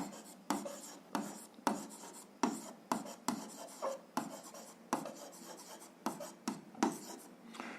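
A pen scratching across paper while writing out a rectangle-area algebra exercise, about a dozen short rasping strokes in a steady rhythm, close and fairly quiet, with no voices.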